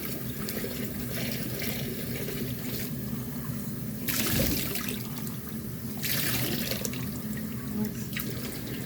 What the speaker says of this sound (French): Voilà, on prend de l'eau chaude.